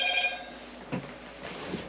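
A telephone rings inside a new camper, a short electronic ring that is fairly faint and mixed with room noise, with no talking over it.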